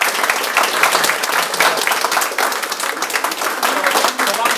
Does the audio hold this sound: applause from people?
yes